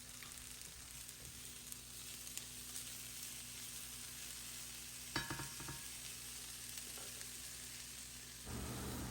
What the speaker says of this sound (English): once your vegetables start to get some color on them and they look kind of like this